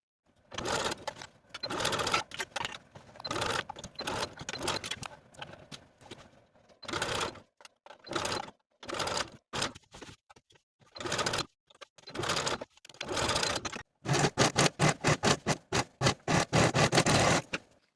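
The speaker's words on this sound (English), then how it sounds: "Sew all around the armhole with a 5/8 inch seam allowance" Sewing machine stitching a sleeve into the armhole of a 1940s-style blouse, loud and close, running in repeated short bursts of rapid mechanical chatter with brief pauses, the runs growing quicker and more regular toward the end.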